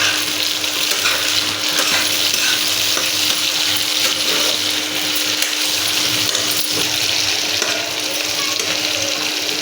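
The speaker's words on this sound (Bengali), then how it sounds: "এই যে পেঁয়াজটা একটু লাল লাল ভাজা হয়ে গেছে, এবার আমি এই যে টমেটো কুচি দিয়ে দেবো" Chopped tomato and leftover chopped onion are stirred into reddish-fried onion in hot oil for a mutton and potato curry, giving a loud, continuous sizzle with scraping stirs and occasional utensil clinks, with no talk.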